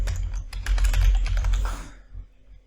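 Fast, loud typing on a computer keyboard as a key pair name is entered, a dense run of close clicks for about two seconds, then a couple of stray taps and quiet.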